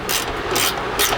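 A ratchet with a 17mm socket tightens bolts while a bumper is installed on a 2014-or-later Toyota Tundra. Quick, close, steady mechanical clicking and rasping runs through the short stretch, louder near the end.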